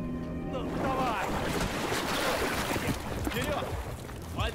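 A motorboat engine drones over rushing water and wind noise in Battlefield 4, with voices talking loudly on top throughout.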